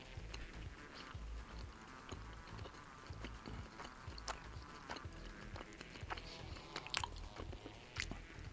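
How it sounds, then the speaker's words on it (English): Someone chews a bun up close, with steady crunching and biting sounds repeating over about eight seconds and no talking. "Chewing."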